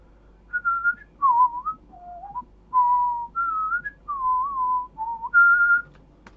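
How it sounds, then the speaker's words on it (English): A single person whistles a march tune, clear, close, and pure-toned, with about eight short melodic phrases separated by brief pauses over a quiet background. "A bit of whistling, catch me on the copyright,"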